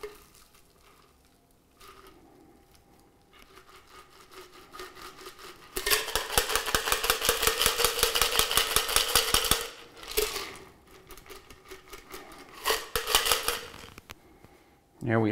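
A cocktail strained through a fine strainer: a sustained, rapid rattling and splashing burst lasting several seconds, then shorter choppy pours and drips, with faint background noise around it.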